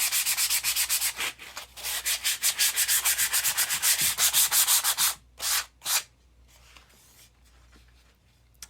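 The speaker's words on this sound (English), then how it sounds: "I'm going to sand down the back where I removed my label too." Hand sanding of the back of a piece where a label was removed, in steady close back-and-forth strokes that sound rhythmic and scratchy for about five seconds, then two last separate strokes before it falls quiet.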